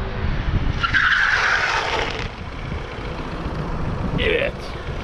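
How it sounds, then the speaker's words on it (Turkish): Tires skid with a sharp screech during a hard-braking test on a Honda PCX160 or CB125F motorcycle at night, followed by a second shorter squeal, while people talk nearby. "Son bir deneme yaptıracağız. Frene basacak."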